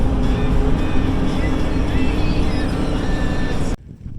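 Vehicle rolling over a bumpy road, a loud continuous rumble with rattling and jostling that cuts off abruptly near the end.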